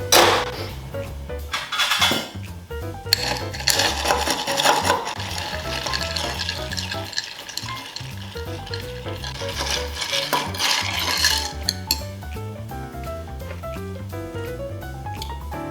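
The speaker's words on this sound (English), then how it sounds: "Now we're adding ice and stirring." A bar spoon stirs a Sazerac cocktail over ice, producing a continuous clinking, swirling rattle of ice cubes against glass, close and busy, with soft background music underneath.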